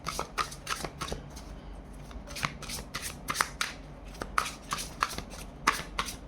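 Tarot cards riffled and shuffled by hand at close range, a run of quick papery flutters and soft slaps repeating irregularly, moderately quiet with no talking.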